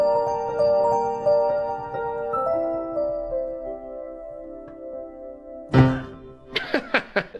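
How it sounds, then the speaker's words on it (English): A magical piano preset on a Roland LX15 digital upright piano plays sustained, bright chiming chords that shift every couple of seconds, ending with a louder burst and a few quick, sharp notes, heard alone. "Slightly cheesy sounds like this magical piano."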